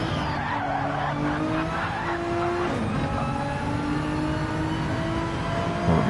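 Race cars in Gran Turismo 7 on the Barcelona-Catalunya circuit scream with steady engine whine and squealing tires, a dense, constant roar of several cars shifting pitch throughout.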